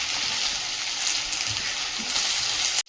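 Chopped ginger, whole cumin seeds and green chillies crackle and sizzle steadily in hot oil in a home kitchen, a dense, close frying hiss running continuously with no talk before cutting off abruptly.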